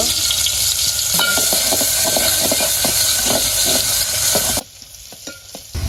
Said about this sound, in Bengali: পেঁয়াজটা এভাবে ভাজা ভাজা করে নিয়ে লাল লাল যখন হবে